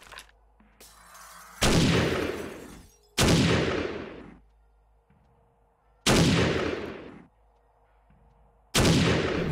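Four loud gunshots ring out in the survival video game 7 Days to Die, each a sharp blast with a long reverberant decay, spaced about one and a half to three seconds apart, with quiet ambience between.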